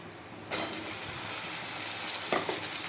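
Chopped onion with ginger-garlic paste bursts into a loud hiss as it hits a hot pan, then fries in a steady close sizzle, with a brief stirring scrape near the end.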